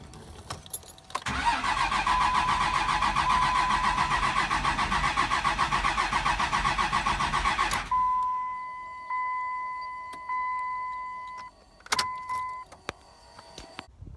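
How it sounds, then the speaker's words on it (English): A manual truck engine cranks over without firing, a long steady rhythmic starter churn for several seconds, then it stops and is followed by a tone and small clicks. "I've been cranking on the truck, trying to get it started"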